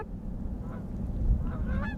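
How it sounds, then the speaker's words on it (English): Flock of mallard ducks calling over a marsh during a hunt, faint, distant honking quacks scattered through a low, rumbling outdoor wind backdrop. "A whole lot of ducks."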